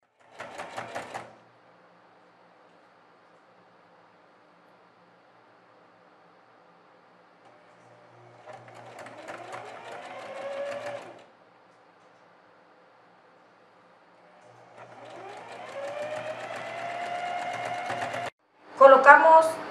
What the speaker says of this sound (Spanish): Doblamos un centímetro y realizamos la costura hasta llegar a la otra sisa.